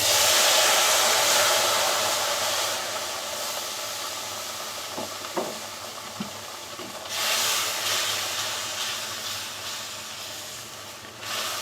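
A cup of milk poured onto hot semolina fried until reddish gives a loud broad hiss that slowly eases, with a few light clinks of the pan midway before the hiss swells again.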